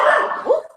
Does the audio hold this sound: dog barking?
yes